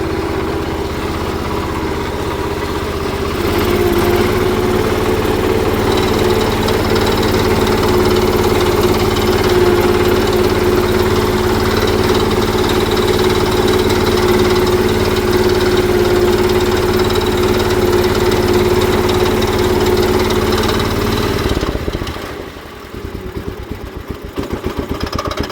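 A Ford LGT 145 lawn tractor, left sitting in a parts yard, runs with a steady, loud droning engine hum for about twenty seconds, then the sound drops and goes rough as the engine falters near the end.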